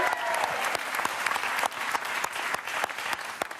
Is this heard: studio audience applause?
yes